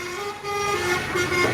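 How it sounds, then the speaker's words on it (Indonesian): A Bonestar tourist bus sounds a loud, sustained horn note as it passes close by, the engine rumbling beneath. "bus pariwisata"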